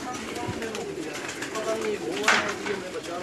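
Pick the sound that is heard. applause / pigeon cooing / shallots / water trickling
pigeon cooing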